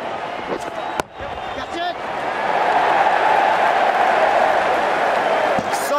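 A large cricket stadium crowd roars and cheers during an England versus India World Cup match, a loud sustained swell that builds and stays dense, with a sharp knock near the start and a commentator talking over it.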